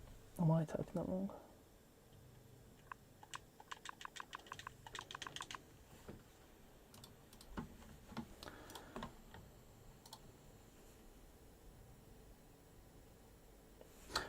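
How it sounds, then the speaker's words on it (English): Rapid bursts of clicking keystrokes on a computer keyboard sound up close during a Halo Infinite game night, with a voice speaking briefly at the start and quiet pauses between the flurries of typing. "Am I typing that wrong?"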